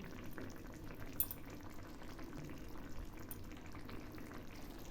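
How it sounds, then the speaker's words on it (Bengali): Katla fish curry gravy with spice paste simmering gently in a pan, a faint, steady bubbling and crackle held evenly throughout. "ঝোল একটু একটু ফুটছে, এবার আমি মাছগুলো দিয়ে দিচ্ছি।"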